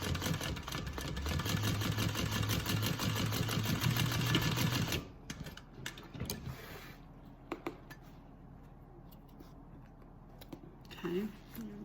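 A sewing machine stitches a seam on a handmade bag, tapering from a 3/4 inch to a 1/2 inch seam allowance. It whirs loud and steady for about five seconds, then stops, leaving faint handling noises.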